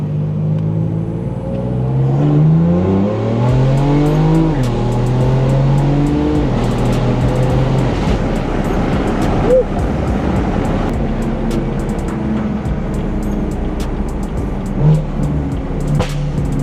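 A BMW M4 fitted with a downpipe pulls hard through second gear, its engine note climbing in a loud, rising roar, dropping at a shift and building again, heard from inside the car.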